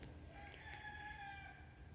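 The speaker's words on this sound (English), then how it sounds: "the neighbor's chickens are going nuts" A rooster crows at a distance, faint but clear over low background rumble, with a brief cluck just before it.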